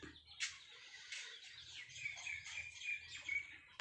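Chicken calls and clucks from a nearby fighting rooster, a few short bursts over a quiet low rumble.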